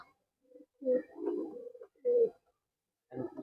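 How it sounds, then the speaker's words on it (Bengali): Murshidabad tumbler pigeons coo close by in a loft, giving several soft, throaty rolling calls in quick succession with brief pauses between them. "এই যে সেম টু সেম পায়রা"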